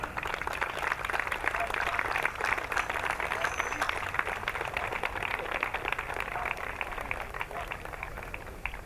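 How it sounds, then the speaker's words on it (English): Dense, steady applause from an audience at the opening ceremony of a summer night dog show, sustained clapping filling the whole stretch without pause. "please, big applause for our dear friend"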